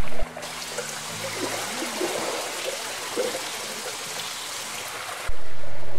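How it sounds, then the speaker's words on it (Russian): Several waterfalls in a park pool murmur with a steady, broad rushing and trickling wash, heard up close and fairly loud, with faint light music briefly audible at the start and end. "Легкая музыка перекликается с журчанием различных водопадов бассейна."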